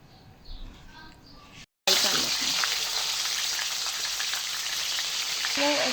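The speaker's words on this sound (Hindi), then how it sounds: "अब इसमें इसको हम हल्का सा फ्राई कर लेंगे ताकि इसके ऊपर ये सारा यहाँ पे कलर आ जाए।" Chicken pieces frying lightly in a pan for a steam roast, a brief quiet moment with faint sounds, then a sudden loud, bright sizzle that continues steadily to the end.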